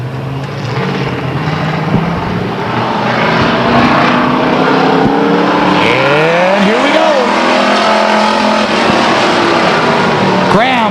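Pure stock cars race in a second qualifying heat at Stockton 99 Speedway, their engines roaring loudly and continuously with rising and falling pitch as cars pass close by, under a blaring announcer's commentary.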